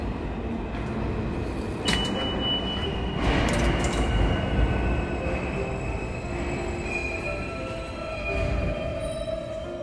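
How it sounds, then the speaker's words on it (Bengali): New York subway train moving through a station, a continuous loud metallic rumble with squealing wheels and rising hum, no voices. "অলরেডি আমি সাবওয়ের ভিতরে চলে আসছি।"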